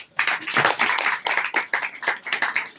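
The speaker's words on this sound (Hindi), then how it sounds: "ताली बजाओ अपने आप के लिए" Audience clapping at a church gathering: rhythmic, fairly close hand claps in quick bursts, with short pauses between groups of claps.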